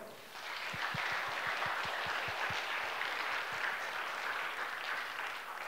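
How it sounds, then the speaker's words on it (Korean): A church congregation at a Friday revival service at Onnuri Church bursts into sustained applause, an even, full roar of many hands with a few heavier claps standing out near the start. "하나님 앞에 한번 영광의 박수 올려드릴까요?"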